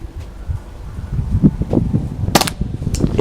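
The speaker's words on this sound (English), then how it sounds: "What I'll do is take this magazine out in a moment and try shooting" A Walther CP99 air pistol fires a sharp, loud shot close by, set against steady outdoor wind and rustling noise.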